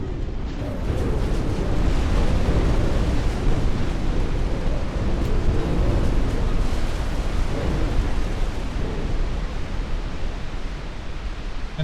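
Relentless rumbling booms of torpedo explosions striking a battleship in the naval game Ultimate Admiral Dreadnoughts, merging into a dense, continuous roar that stays loud and steady throughout, with no voices.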